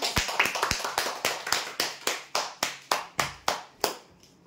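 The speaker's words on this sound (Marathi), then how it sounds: "जोरदार टाळ्या होऊ द्या।" Applause for a prize draw winner: a string of crisp, evenly spaced hand claps, about three per second, sharp and close, fading slightly toward the end.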